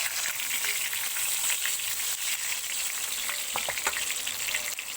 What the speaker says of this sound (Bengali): তো বেগুনটা আমার ভালো করে ভেজে নিই।